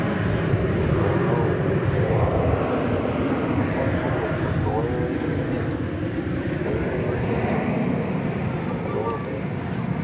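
An Airbus A321 airliner passes at Dallas Fort Worth airport on a summer day, a steady loud broadband engine roar holding throughout with faint voices murmuring underneath.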